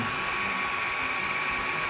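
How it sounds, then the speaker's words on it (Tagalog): A blower drying shampoo and soap off a Honda Wave 100 motorcycle gives a steady, airy whine that stays constant and fairly close, with no talking. "mahiwagang blower para matuyo agad yung mga shampoo, yung sabon"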